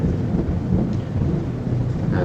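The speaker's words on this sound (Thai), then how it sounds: "ฟ้าผ่าแรงนะครับ" Thunder rolls through a heavy thunderstorm, a continuous loud low rumble with broad noisy wash and no voices.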